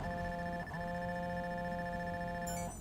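A phone rings in the Watch Dogs video game, sounding a steady electronic tone for a couple of seconds, faint and alone with no talk.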